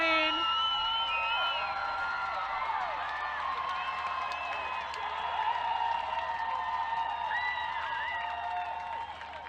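A crowd cheers and whoops at an under-19 lacrosse World Cup third-place match, England vs Australia, in 2015: a steady, loud roar with high whistles and shouts, and a voice talking over it throughout.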